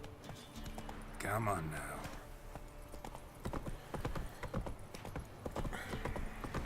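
Hooves of the horse Roach pound in a fast gallop through The Witcher 3, with a whinny early on and someone briefly speaking over the steady clip-clop.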